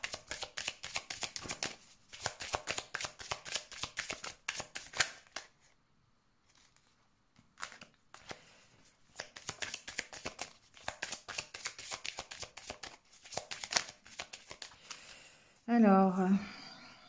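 Tarot cards being shuffled in repeated papery riffling bursts, with a brief pause partway through and a short higher flutter near the end.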